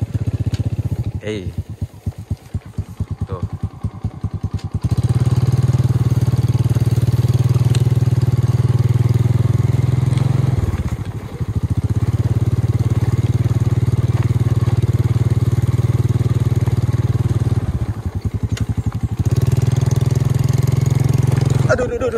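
A motorcycle rides along a narrow path beside rice fields, its engine droning steadily and loud up close, dipping briefly twice as if easing off, with a short choppy stretch at the start and a brief voice.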